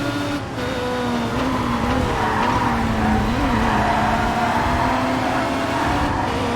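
Race car from the TOCA Race Driver 3 video game in a DTM series race, braking hard into a corner with tire squeal and a droning engine that rises and falls; a continuous close mix of motor and skidding, with no voices.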